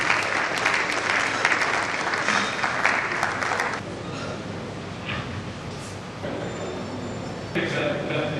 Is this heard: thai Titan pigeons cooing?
no